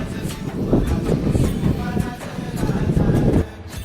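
A train rumbles past with a clattering, rushing roar and some wind buffeting, fairly loud and continuous before dropping off near the end, near Shirgaon Fort by the beach.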